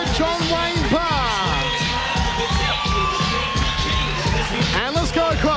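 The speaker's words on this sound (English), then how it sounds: "A great ovation for John Wayne Parr." A home crowd at a Queensland Muay Thai event roars and cheers for fighter John Wayne Parr, with loud whoops and shouts layered over a constant babble, and an announcer speaking over the noise.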